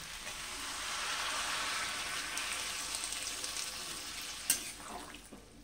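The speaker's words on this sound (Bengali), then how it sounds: "এবার আমি জল দিয়ে দিচ্ছি।" Water poured into a pan of green pea ghugni, a steady rushing pour that swells and fades over a few seconds, followed by a sharp clink and light bubbling.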